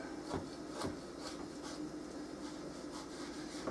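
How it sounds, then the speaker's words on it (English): A kitchen knife scores raw pork rind into quarter-inch sections, giving a series of short rasping cuts at a steady, roughly half-second rhythm. The cuts sound close and moderately loud over a low background hum. "I'm actually finding it easier to cut with the knife or on the scissors, so I just score it into"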